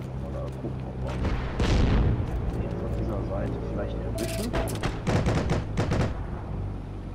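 A grenade bursts in the online war shooter Heroes & Generals, a loud broadband boom rising out of steady battle noise, with scattered gunfire cracks following and someone talking over the action.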